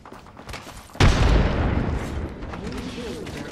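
Frag grenade blast in the Apex Legends battle royale, a single sudden loud explosion with a rumbling tail, heard close, with game voice lines spoken around it.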